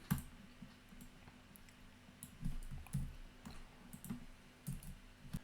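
Quiet, irregular clicks of fingers typing a short command on a computer keyboard, a few soft taps spread over several seconds with no voices.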